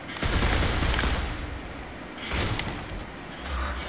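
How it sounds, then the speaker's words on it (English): Rapid pistol fire in Gears of War 2 from a rapid-fire controller, a dense loud burst of shots with a brief lull and then a second burst, no talking. "Now here's a demonstration of the controller with the pistol in Gears of War 2."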